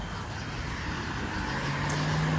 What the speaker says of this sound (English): there's all these noisy cars